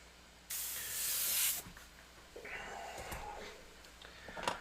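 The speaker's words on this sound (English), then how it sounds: "We'll give it a nice little mist." A spray paint can misting a Warhammer servo skull model lets out one close, loud hiss of about a second, followed by quieter handling noises.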